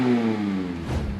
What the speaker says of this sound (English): now we got that exhaust on the car and we could start it up and see how it sounds